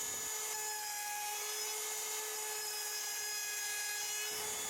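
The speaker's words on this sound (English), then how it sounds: "controlling this router freehand was more skillful than using a hand chisel" A wood router is guided freehand to cut short joints for an exhibition-quality furniture piece, with a steady, loud high-pitched whine and bright harmonics held for the whole clip and no talk.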